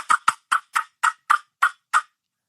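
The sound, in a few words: imitated turkey hen yelp and cutting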